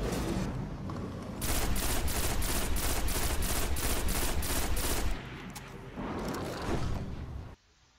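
Rapid gunfire from the Grasp of Malok pulse rifle in Destiny, a fast, evenly spaced stream of shots emptying the magazine for several seconds, a short pause, then another brief burst before cutting off.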